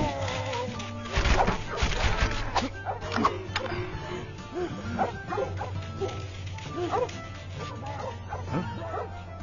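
A dog in the LEGO Pirates of the Caribbean video game yips, barks and whimpers repeatedly, near and fairly loud, over game music and effects.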